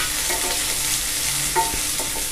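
Chopped onion frying in oil for semiya upma, a dense, steady sizzle heard close and loud with a faint clink of a spoon partway through.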